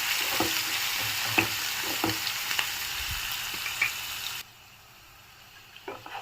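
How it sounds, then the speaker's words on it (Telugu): Onions, green chillies and curry leaves fry in a non-stick pan for soya khorma, a loud, steady sizzle broken by spatula stirring taps. The sound drops to a much quieter simmer partway through, with no speech. "ఆనియన్స్ బాగా బ్రౌన్ కలర్లో వేగిపోయినాయి"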